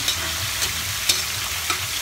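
Pork frying in a pan with onion and garlic: a steady, close sizzle with soft crackles and occasional brief stirring scrapes, no voices.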